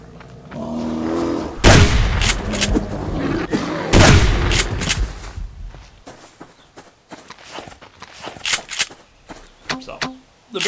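Gunshots fired at a bear in the survival video game Subsistence: two loud, sharp blasts close together near the start, followed by quieter footstep-like rustling and clicks.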